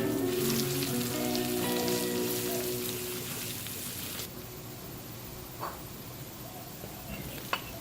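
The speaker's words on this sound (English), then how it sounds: "Now let's fry this chili oil. Next comes the garlic. Let's stir fry until the garlic becomes fragrant." Garlic stir-frying in chili oil in a pan over a low flame, a steady crackling sizzle that is loud and dense at first, then thins to a quieter hiss with a few scattered pops and clinks.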